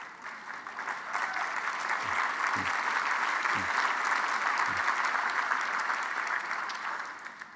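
Sustained audience applause fills a hall during a cancer center's State of the Cancer Union speech, swelling to a steady peak and tapering off, with a few low thumps underneath.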